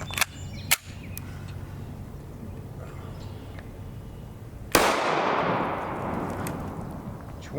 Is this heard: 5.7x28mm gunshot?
yes